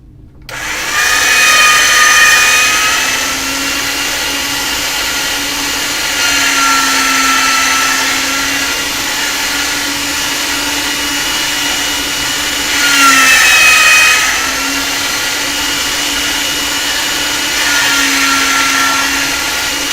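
A pasta machine rolls polymer clay at its thinnest setting, giving a loud, steady mechanical whirr that carries a tonal hum through the whole stretch and swells and eases at intervals as the clay feeds through.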